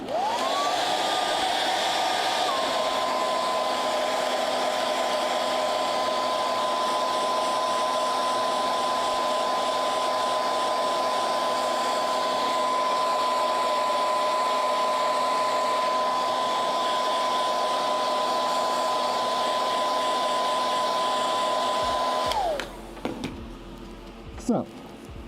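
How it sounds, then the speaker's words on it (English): A hair dryer blows with a steady, high-pitched whine for over twenty seconds, then shuts off, leaving a few faint clicks and handling noises. "Once again, we're going to hit it with a hairdryer."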